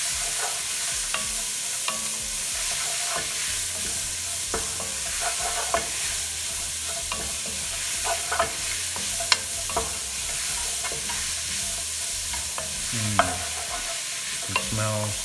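Chopped celery and other vegetables sweating in oil in a pan for spaghetti squash soup, a soft continuous sizzle broken by scattered clicks and scrapes as they are stirred, close and unaccompanied by speech.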